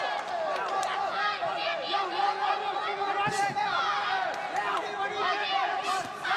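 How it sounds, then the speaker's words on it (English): Spectators at a Muay Thai fight in Lumpinee Stadium, Bangkok, roar and chant with rising excitement during a final round, a loud, busy crowd noise with occasional sharp impacts and talk mixed in. "you hear the crowd getting really, really excited for this final round as well"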